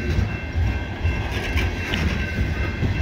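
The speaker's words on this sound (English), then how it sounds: "seeing the train come" A CSX loaded coal train rolls past near Old Mill Bottom Road on the old B&O mainline, a steady, loud rumble of rail cars and wheels on a snowy day, continuous throughout.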